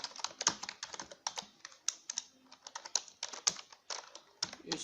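Rapid keystrokes on a computer keyboard while coding HTML and CSS, a steady run of close, crisp clicks with uneven rhythm and short pauses.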